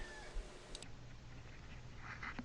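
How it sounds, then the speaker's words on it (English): A cat meows faintly near the end of a noisy outdoor stretch, a brief soft cry over steady background hiss and rumble. "Looks like I got a kitty cat."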